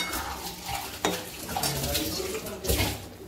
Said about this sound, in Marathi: आता फोडणीमध्ये आपण पनीरचे तुकडे टाकून घेतलेले आहे, याला छान मिक्स करून तेल सुटू द्यायचे थोडं